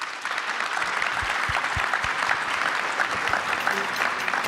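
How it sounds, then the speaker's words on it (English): A conference hall audience at a security forum gives panelists a round of applause, with full, even clapping throughout and a few distinct claps standing out early on. "I'd ask all of you to give them a great round of applause."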